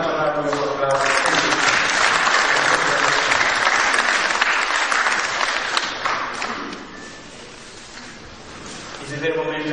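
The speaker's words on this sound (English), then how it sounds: "Let's give him another round of applause" Sustained applause from a large audience at a signing ceremony in Tanzania, loud and dense for several seconds before fading, with a voice speaking at the start and end.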